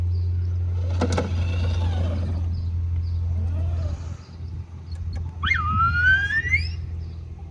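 A remote-controlled, screen-accurate Star Wars Mouse Droid runs at full throttle with a steady low motor hum, topped by bright electronic chirps and a rising warble, while a voice talks over it.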